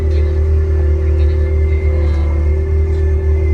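Steady low engine rumble of a digger being driven around a Diggerland theme park, heard from inside the cab as a constant near drone with a mechanical hum and no talking.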